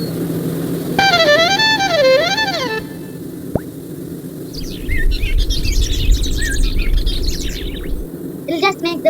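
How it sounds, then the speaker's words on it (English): A synthesized bird chirp from an AI painting music toy gives rapid warbling tweets in a melodic run, then scattered quick chirps over a steady low hum, with a final burst of fast twitters. "It'll just make the birdie sound."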